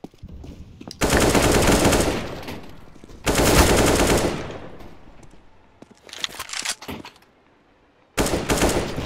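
Loud bursts of automatic gunfire in the Counter-Strike video game, three long sustained volleys separated by short gaps with scattered single shots and clicks between them.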